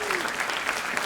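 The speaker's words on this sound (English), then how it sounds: "Can we all give them a big round of applause?" Audience applause at a jazz orchestra's spring concert, a dense steady wash of clapping filling the whole short moment at even loudness.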